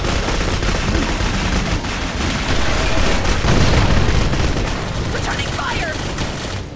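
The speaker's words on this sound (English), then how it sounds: "Returning fire!" Rapid bursts of gunfire from Clive Barker's Jericho, loud and sustained like a firefight with overlapping shots and a heavier crack midway, with talking layered on top.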